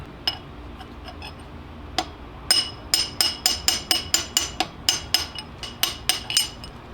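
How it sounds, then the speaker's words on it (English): Hammer blows drive a cross pin out of a Chrysler 9.25 differential carrier: a few scattered sharp metallic strikes, then a fast, steady run of about fifteen ringing hits, close and loud. "Drive it out just enough to where I can get that cross pin bolt back in there."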